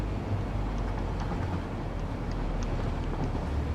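An automated self-driving train in the factory-building game Satisfactory rolls along, a steady low rumbling drone with faint rhythmic clicks over the track.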